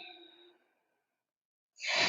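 A long, deep exhale during a slow yoga flow with Ujjayi breathing, a soft breathy tone fading out over half a second, followed by a short pause and the start of a louder breathy rush.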